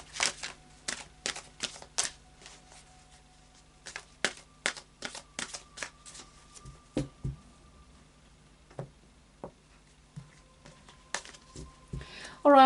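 Tarot cards are shuffled in a series of crisp, close riffling bursts and snaps, sharp clicks spaced irregularly with quiet gaps between them.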